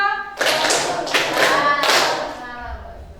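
A few loud, close hand claps ring out over a counted classroom clapping exercise, each sharp burst spaced about seven-tenths of a second apart, with a voice talking between the claps.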